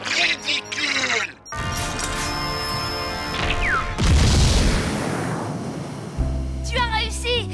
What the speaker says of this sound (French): Tu as réussi! Tu as fait exploser Proto-Boy!